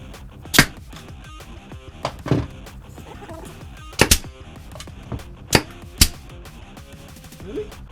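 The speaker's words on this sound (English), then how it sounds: "I had to change nail guns because there was a brad stuck" A brad nail gun fires into wood in a workshop. Sharp, loud single shots come at irregular intervals, some spaced closely in pairs, over a low background murmur.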